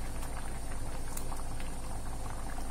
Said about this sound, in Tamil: இப்போ நல்லா கொதி வர ஆரம்பிச்சிருச்சுல